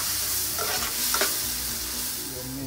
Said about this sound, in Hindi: इसे दो मिनट तक धीमी आंच पे फ्राई कर लिया है और इससे मसाला तैयार हो जाएगा।